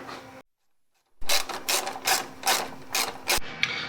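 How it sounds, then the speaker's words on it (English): A 10 mm socket ratchet works a radiator bolt loose on a 2012 Jeep Wrangler, giving several close, loud bursts of ratcheting clicks with short pauses between them and a brief silent gap near the start. "I have to take this 10 millimeter socket that's in here"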